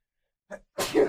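A single person sneezes indoors during a sports talk discussion, a short sharp inhale followed by one loud, close explosive burst.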